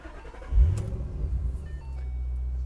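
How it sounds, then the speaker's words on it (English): A Ford Mustang GT convertible engine cranks and catches, settling into a steady low idle rumble at close range. "so we'll give the engine a crank"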